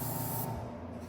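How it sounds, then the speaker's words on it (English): An airbrush sprays paint off the edge of a stencil while painting realistic flames, giving a short, close hiss that cuts off abruptly partway through. "I use this stencil to spray off the edges."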